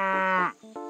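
A cartoon parrot's voice imitates a cow, giving a long, drawn-out moo that bends downward, then a brief break and a shorter second moo, loud and close with nothing else behind it.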